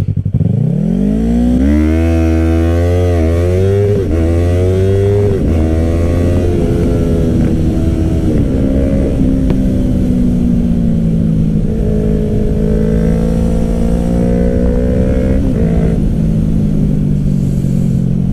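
A restricted Yamaha motorcycle, either an R3 or an MT-07, accelerates hard in a drag-race launch. The loud, close engine note climbs in rising sweeps, dropping briefly at each gear change before climbing again.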